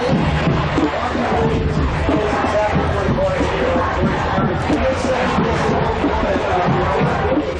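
A West Hazleton high school football crowd at a 1991 game against Hazleton roars in a loud, sustained wash of cheering and babble, dense and continuous, with voices mixed throughout.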